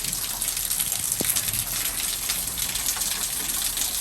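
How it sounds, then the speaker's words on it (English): Heavy rain pours down steadily on a spring day, a dense, continuous hiss that fills the whole stretch with no letup and no voices over it. "Look at the rain, y'all."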